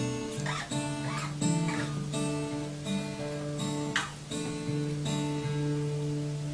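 Guitar plays a sustained, ringing riff of repeated notes and chords, moderately loud and steady, with no voices present.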